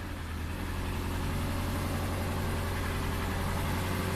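A Subaru engine with a high-idle fault running at a steady idle, a continuous low rumble and hum held evenly and close, with no voices.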